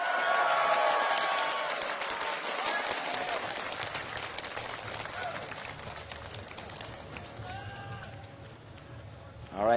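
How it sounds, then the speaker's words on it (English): A large crowd at a League of Legends World Playoffs match between TSM and Azubu Frost cheers and applauds, loudest at the start, then fading into a sustained roar with a caster talking over it. "let me hear you guys cheer for these 2 teams"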